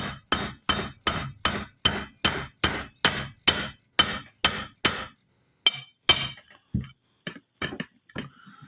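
A rapid, even series of sharp metallic hammer taps driving rivets into a plate on a restored Johnson outboard motor, about a dozen in a row, then a few slower, spaced strikes, close and ringing.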